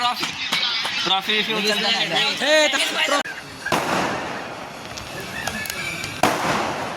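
Firecrackers burst outdoors, several sharp loud cracks and crackling pops breaking through a noisy crowd of voices and chanting nearby.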